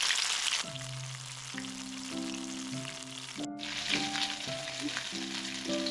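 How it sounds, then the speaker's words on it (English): Pork pieces sizzle and fry steadily in a hot pan while being browned on all sides for a Goan pork roast, a continuous close crackle with an occasional brief stir or turn and a tonal hum underneath. "Keep turning the pork and brown it on all sides."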